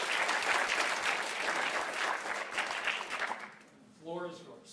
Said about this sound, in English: give an opening round of applause to the debaters